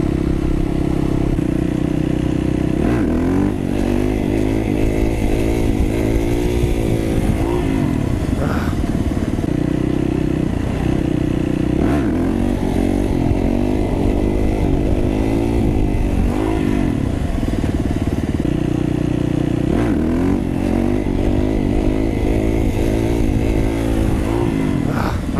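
A Honda Grom motorcycle with its airbox removed, ridden on the road: a loud, steady engine drone that rises and falls as the rider revs and shifts, with wind rush throughout and no speech.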